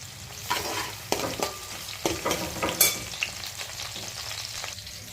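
Curry leaves sizzle in a pan of frying prawn biryani curry, with steady crackling frying noise and repeated scraping stirs at an uneven rhythm, close and moderately loud, no talking.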